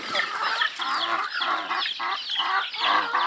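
Several chickens cluck busily and close by, overlapping pulsing calls in a steady rhythm, fairly loud and continuous, with no talk.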